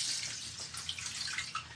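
Warm water poured over a baby sitting in a small baby tub, a steady close splashing trickle that runs throughout with a few brighter splashes.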